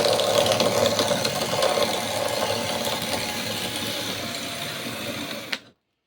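A power tool spins a wooden blank at high speed to make dowels, giving a loud, steady mechanical whir and rattle that runs close and continuous before cutting off abruptly near the end.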